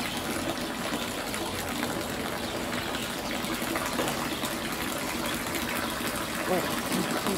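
Water gushes steadily from a hose at a zoo enclosure in Simferopol, Crimea, a continuous splashing rush heard under nearby voices.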